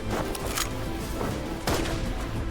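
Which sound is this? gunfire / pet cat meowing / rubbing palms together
gunfire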